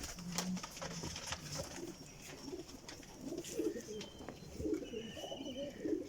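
Flying pigeons kept for endurance flights coo faintly in short low bursts amid a busy, noisy background, with occasional distant voices.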